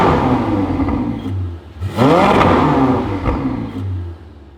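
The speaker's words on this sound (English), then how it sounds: "Jesse, turn it into the race mode, and you can hear the tones deepen a little bit, and the valves really open." A Ferrari 488 with a titanium race sport exhaust, set to race mode with valves open, revs up loudly in a couple of sharp blips, its rising and falling engine tones close and clear with no talking.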